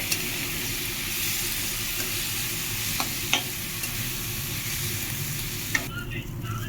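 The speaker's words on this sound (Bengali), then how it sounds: "ভালো মতো মুসুর ডালটা সবগুলো উপকরণের সাথে একটু ভেজে নেব।" Red lentils (masoor dal) fry with other ingredients in a pan, giving a steady close sizzle and hiss with a few sharp clinks of stirring, and no talk.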